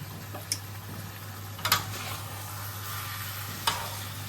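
A potato, pointed gourd and pumpkin curry sizzles softly in a pan as it is gently stirred, with a low steady hum underneath and three sharp utensil clicks spread across the clip.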